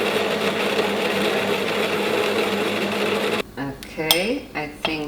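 A coffee grinder whirs loudly and steadily through ground coffee for about three and a half seconds, then stops, followed by light clinks and rattles of handling.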